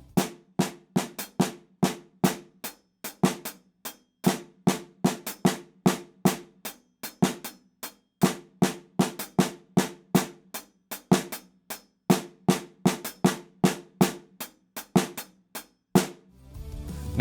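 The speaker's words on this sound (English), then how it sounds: "So we'll start with all the quarter notes in the right hand and the 5s in the left hand and switch back and forth." A drum kit plays a polyrhythm of fives against quarter notes, crisp sharp hits in a continuous, uneven-feeling interlocking pattern, loud and close with no speech.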